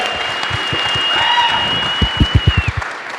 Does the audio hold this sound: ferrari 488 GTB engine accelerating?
no